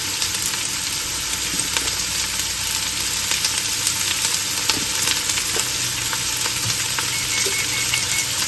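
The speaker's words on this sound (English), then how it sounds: "Once everything is nice and sauteed and all the onions are caramelized" Onions sauteing and caramelizing in a pan, a close, continuous sizzle with occasional stirring scrapes and no talk.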